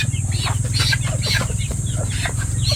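Breeder roosters in a pen give clucks and short calls over a steady insect-like background drone, with one rooster call rising above the rest mid-clip.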